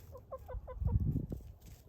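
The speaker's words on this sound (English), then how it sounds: "Worried about my rooster" A red rooster that has been unwell lately clucks a quick run of five short, rising clucks, close by, followed by shuffling and rustling noises, with no talk.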